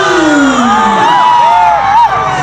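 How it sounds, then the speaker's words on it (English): A festival crowd at the Karbi Anglong Day event cheers loudly to welcome a guest, with shouts and whoops overlapping in a dense, close burst. "Ladies and gents, with a very huge round of applause, please welcome the one and only Shakti Kapoor."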